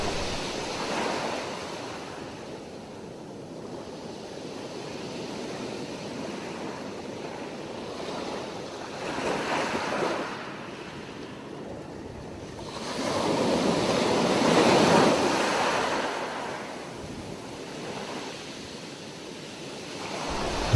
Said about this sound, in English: Listen to the sounds of the water rolling in over the sand and then back out to sea.